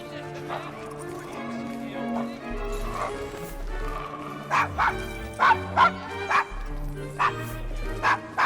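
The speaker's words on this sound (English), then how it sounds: "Is your dog quite all right?" A dog barks repeatedly in the video game Assassin's Creed Syndicate, a run of loud, sharp barks coming in bursts over low game sounds, with horse hooves and voices in the background.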